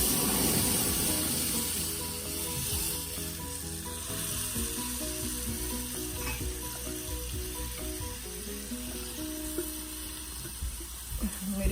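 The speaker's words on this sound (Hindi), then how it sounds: "मेरी गैस थोड़ी सी ज़्यादा तेज़ थी, ज़्यादा स्प्लैशिंग की आवाज़ आ गई" Puree poured into a hot pan for sarson ka saag, a loud, continuous, spattering sizzle over a high flame with crackling bursts, holding strong throughout.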